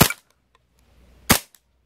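Two sharp, loud cracks from an Umarex Beretta M9A3 CO2 blowback BB pistol firing 4.5 mm steel BBs, about a second apart, each with a quick mechanical snap of the slide and nothing else between.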